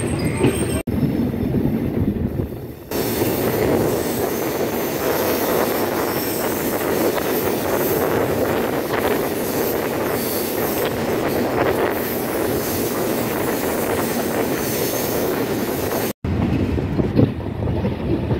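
The Chitra Express passenger train travels from Khulna toward Dhaka, a steady loud rumble of wheels and carriages heard from inside, continuous for most of the stretch with brief quieter moments at the start and end.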